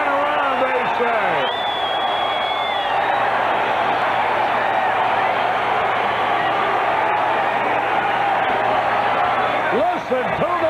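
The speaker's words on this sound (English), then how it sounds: "Listen to this crowd." Baseball crowd at a 1984 Pirates vs Cubs game cheering loudly and continuously, a dense stadium roar that holds throughout with a broadcaster's voice over it.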